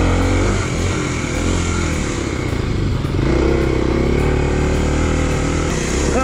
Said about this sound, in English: I just try to challenge the KLX250 when it's in its stock form